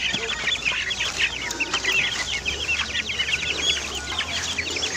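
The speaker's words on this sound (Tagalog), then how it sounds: "So ito na yung mga sisiw natin no." Native chicks chirp in a steady, high-pitched chorus nearby, joined by a low ongoing rumble in the background.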